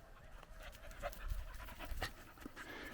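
A dog pants rapidly and close by during an outdoor walk along a border track, quick rhythmic breaths over faint background noise.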